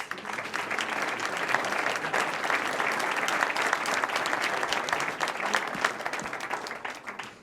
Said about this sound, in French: et on peut les applaudir à nouveau.